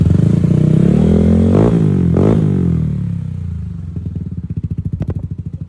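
A motorcycle engine with a JBT 36mm throttle body, JBT head and open pipe idles with a loud, close rumble, gets two sharp throttle blips, then settles into a loping, pulsing idle.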